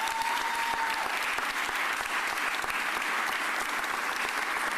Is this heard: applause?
yes